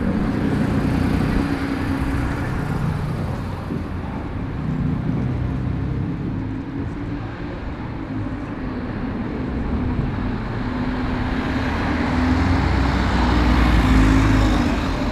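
Wrexham bus engine running, a steady low rumble that swells and eases with passing traffic noise, heard outdoors at a moderate distance with no talk.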